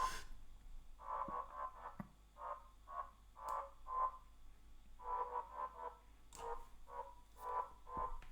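Pulsing synthesizer tones with a vocal, croaking quality, rhythmic bursts at a moderate volume with short gaps between them.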